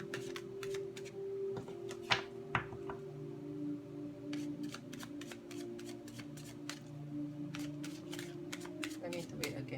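Tarot cards are shuffled by hand in a run of quick, crisp riffles and soft flicks, close and fairly quiet, with faint talking in the background.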